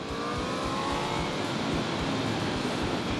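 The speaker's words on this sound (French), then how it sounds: "Alors, on est sur la RSV4 Factory." An Aprilia RSV4 Factory motorcycle engine on a race track, a steady loud drone holding a high rev without pause, heard from close by as the bike runs at speed.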